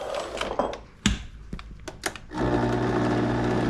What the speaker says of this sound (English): So with the blender, you always want to start slow